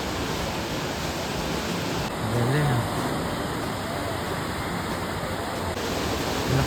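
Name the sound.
strong ocean surf waves at surfing beach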